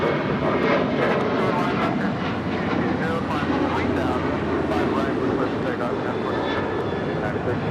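Jet airliner departing from the south side runways at LAX, a continuous loud engine roar that holds steady throughout, with faint radio chatter and voices underneath.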